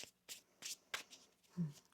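Tarot cards are shuffled in a few quick papery riffles and flicks, close and fairly quiet, followed by a soft thump as the deck settles.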